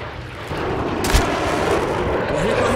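Gunfire in a Call of Duty: Modern Warfare 3 match: a dense, steady battle din with one sharp, heavy shot standing out partway through, and faint voices mixed in.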